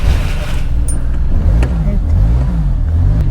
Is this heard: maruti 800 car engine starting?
yes